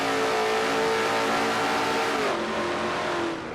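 A race car at Riverside accelerates hard, its engine note climbing loud and steady, then dropping in pitch at a brief gear shift before braking, heard close and without talk.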